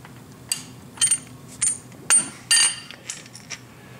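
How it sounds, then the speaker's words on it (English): A ratchet turns the engine of a Ford 9600 tractor while the timing is set, with a run of short metallic clicks and clacks in uneven bursts over a steady low background hum. "So we're going to rotate this 23 degrees. Using the ratchet."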